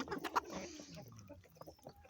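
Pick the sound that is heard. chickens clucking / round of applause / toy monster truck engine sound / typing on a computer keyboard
chickens clucking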